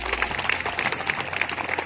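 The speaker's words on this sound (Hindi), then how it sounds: "एक बार उनके स्वागत में जोरदार तालियां बजाएंगे बच्चे।" Children clapping together to welcome guests at a school children's parliament event, a brisk, dense patter of many small hands with a steady rhythm and no voices over it.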